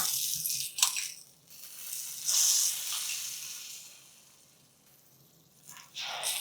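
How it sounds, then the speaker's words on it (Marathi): Hot oil tempering hisses and sizzles in several sharp spurts as it is poured onto chutney, each fading to a softer crackle before the next burst. "आता ही चुरचुरीत फोडणी आपल्या मस्त चमचमीत चटणीवर."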